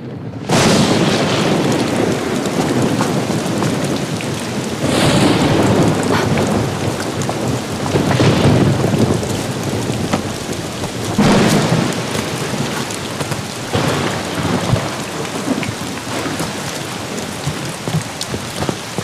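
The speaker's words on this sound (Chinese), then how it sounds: "下这么大雨你干什么呢？" Heavy rain pours steadily throughout, with loud rolls of thunder booming at intervals, close and dominant with no voices.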